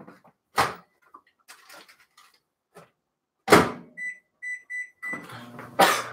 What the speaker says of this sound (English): I just put that in the microwave another 15 seconds